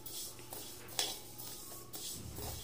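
Rice and moong dal are dry-roasted in a pan, making quiet scraping stirs and a few sharp metallic knocks of a spoon against the pan, with a faint dry rustle underneath.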